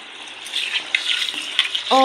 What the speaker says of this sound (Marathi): मी उडदाची डाळ धुवून घेत आहे आणि त्यात पाणी ओतून परत धुवून घेत आहे